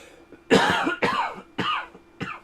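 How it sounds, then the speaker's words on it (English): A person coughs four times in quick succession, each burst loud and close, with short pauses between and no speech around them. "I have like a bad cough right this second"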